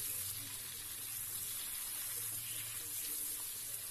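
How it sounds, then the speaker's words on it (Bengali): Potatoes and eggplant frying in oil in a pan for a hilsa fish curry, giving a steady, dense sizzling hiss that holds at an even level throughout. "এবার আমি আলু এবং বেগুনটাকে ভালো করে লাল লাল করে ভেজে নেব"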